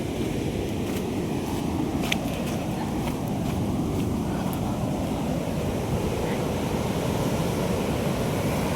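Waves of the Arabian Sea break and wash steadily onto the beach below South Cliff at Varkala during monsoon season, a constant loud surf roar mixed with wind buffeting the microphone.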